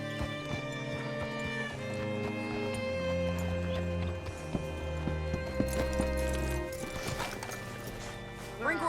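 Horse hooves clip-clopping in the Red Dead Redemption 2 video game, a soft, steady rhythm of hoofbeats under a prominent music score, with a brief whinny-like cry near the end.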